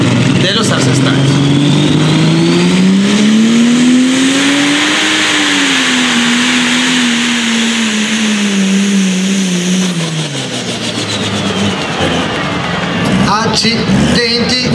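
A pulling tractor roars at a tractor pulling event, its engine note climbing then falling as it hauls down the track, loud and steady, with an Italian announcer talking over it.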